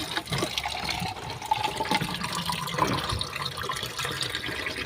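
Water poured into a pot holding two cans of sautéed sardines to make broth, a steady splashing, gurgling flow lasting throughout at close range, with no talk over it.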